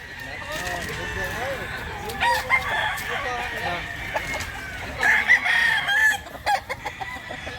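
Young roosters (stags) at a rural Barili, Mantalungon fowl yard crow repeatedly and cluck, with two or three clear crows standing out over a steady bed of background clucking and chatter, and voices talking nearby.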